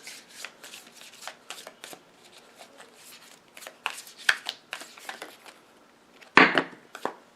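Tarot cards are shuffled by hand in a quiet room: a string of soft, quick riffling and sliding bursts at uneven intervals, ending in one louder snap of the deck.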